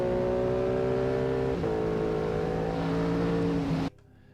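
A race car engine in a racing video game screams at high revs, with a quick dip in pitch at a gear change before climbing again, then cutting off abruptly.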